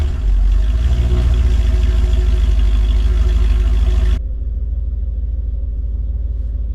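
Cold 1985 Porsche 928 S after sitting overnight, its engine running with a loud, steady low rumble that drops abruptly to a quieter idle partway through.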